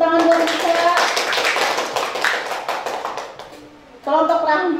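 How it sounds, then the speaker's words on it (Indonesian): A classroom of students claps for a classmate in a short burst of scattered hand claps, with voices talking over it before and after. "Tepuk tangan buat Risa"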